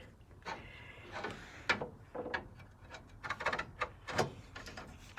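A slotted screw is worked out of a Mercedes R107 fender, giving faint, close scraping and clicking metal sounds in irregular short bursts.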